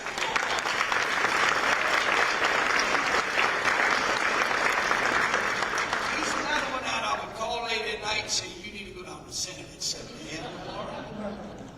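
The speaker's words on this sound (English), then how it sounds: "Have a round of applause." An audience at a Louisiana education bill signing breaks into loud, dense applause that gradually thins into scattered claps, with a voice and some chatter rising near the end.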